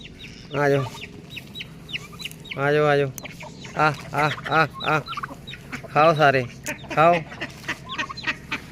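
Turkeys making loud, nasal, repeated clucking and gobbling calls nearby, in short bursts with brief pauses between them.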